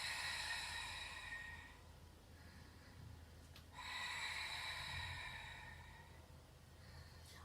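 Controlled breathing during a plank in a fitness class: a long, airy exhale followed by a pause, then another sustained breath, soft and close with no talking.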